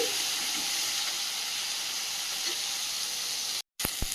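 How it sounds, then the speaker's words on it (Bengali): A tomato frying in the leftover oil from freshly fried fish, giving a loud, steady hiss and sizzle that runs nearly unbroken before a brief drop-out and a couple of sharp ticks at the end. "মাছগুলো ভেজে তুলে নিয়েছি আর ওই তেলের মধ্যে টমেটো একটা ভেজে নিচ্ছি"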